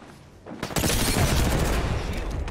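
A grenade goes off in Apex Legends, a sudden loud blast about half a second in that swells into a sustained rumbling, crackling roar with rapid popping like gunfire mixed through it.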